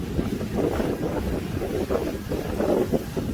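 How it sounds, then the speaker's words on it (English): Steady wind buffeting and rumbling over open water from a moving boat, a dense continuous roar with gusty swells, fairly loud throughout. "As you can see, it's a pretty windy day."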